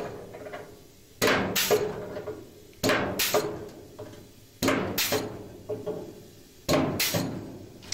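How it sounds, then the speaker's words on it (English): A Harbor Freight hole punch works car body sheet metal during a Bugeye Sprite restoration, producing four loud, sharp metallic clunks spaced about two seconds apart, each followed by a short ringing decay, with no talk. "I'm using a hole punch from Harbor Freight."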